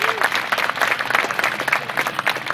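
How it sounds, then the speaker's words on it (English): Audience at a Second Amendment Saturday celebration breaking into a round of applause, a dense, steady clapping of many hands heard close, with a faint voice beneath it. "A big round of applause for our friends Armstrong and Getty"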